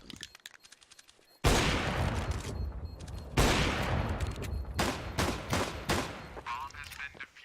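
Dual Elites pistols fire in a CS:GO match, with rapid cracking bursts of gunfire in several loud clusters, mixed with other game sounds and commentary.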